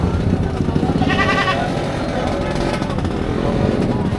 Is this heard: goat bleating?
yes